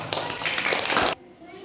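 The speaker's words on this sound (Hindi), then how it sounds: "शाबाश, तालियां बजाओ" Children clap together in a classroom during a math lesson, a short burst of quick, close claps that stops abruptly.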